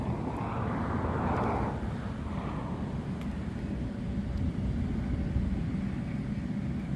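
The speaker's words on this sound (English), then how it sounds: "It's a big plane." Large firefighting plane flying over a wildfire in the Rincon Mountains near Tucson, Arizona, a broad steady low rumbling drone heard from a distance, continuous and moderately loud, with no talking.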